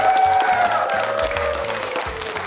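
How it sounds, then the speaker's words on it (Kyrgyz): An audience claps at a children's chess event during a trophy presentation, a fairly loud, even patter of hands with a faint tone threading through it. "кол чабуулар!"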